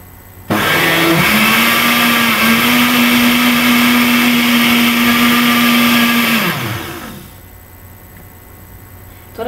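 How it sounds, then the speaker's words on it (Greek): A blender whirring through aloe vera juice starts abruptly, holds a loud steady motor whine for about six seconds, then shuts off and winds down into quiet. "Χτυπάμε με λίγη προσοχή"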